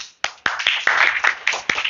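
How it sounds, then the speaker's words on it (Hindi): Pupils in a sixth-grade science class clap together in a few ragged bursts, close and fairly loud, the claps bunching into uneven rhythmic groups. "इनके लिए ताली बजाइए।"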